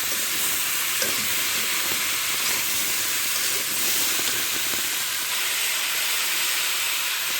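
Ridge gourd being stir-fried in a pan gives a steady, close hiss and sizzle with faint scraping from stirring, continuous and without speech.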